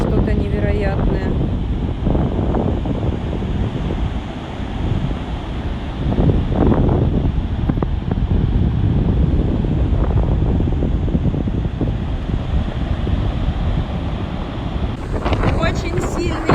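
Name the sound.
very strong wind blowing into the microphone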